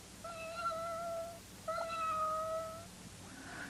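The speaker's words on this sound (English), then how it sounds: "He tried to make friends with Hairy Monster's kitten." A kitten meows twice in clear, drawn-out cries, each rising and falling, close and alone against faint background hiss.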